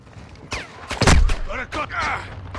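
Gunfire in a video game: a few sharp, loud nearby shots mixed with explosive bangs and swooping effects, with radio-style voices and game chatter around them.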